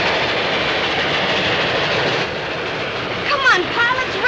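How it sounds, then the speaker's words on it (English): A train passing on prairie land: a steady, loud, broad rumble of rolling wagons that holds throughout, with a few voices and a higher whine rising over it near the end. "Look, Paul. It's a train."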